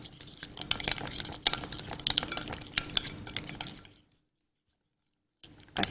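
Yogurt and spices being stirred together in a bowl, with busy clattering, scraping and wet stirring noises for about four seconds before a short silence.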